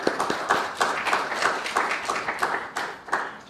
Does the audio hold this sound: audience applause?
yes